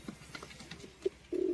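Caged Giribaj and Madras pigeons give a soft, faint coo that ends in a brief louder throaty note over quiet background rustle.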